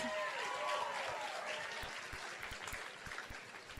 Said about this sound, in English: give a round of applause one more time